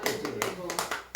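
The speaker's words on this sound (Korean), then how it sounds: "환영의 박수 부탁드리겠습니다." A church congregation claps in welcome at an outdoor service held at a café, a short burst of hand claps over steady background voices, with a final clap at the end.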